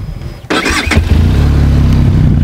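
A Benelli TRK-502 X motorcycle engine cranks and fires up close by, then settles into a steady, loud, low idle rumble with no talking.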